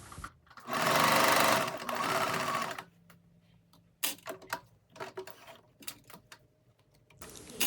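A sewing machine topstitches a denim dress, first running in a loud, fast, continuous burst, then stopping. Shorter separate clicks and brief stitching bursts follow at a quieter level.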